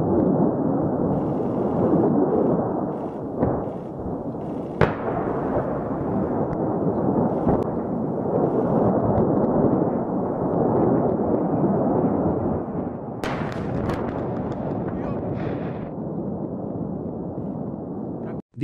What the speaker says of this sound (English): This explosion occurred in a military ammunition depot in Ukraine.